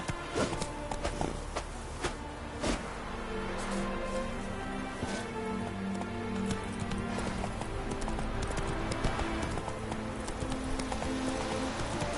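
The horse Roach gallops in Witcher 3, a close clip-clop of rapid hoofbeats running through the whole stretch under game ambience, with a few brief sharper impacts.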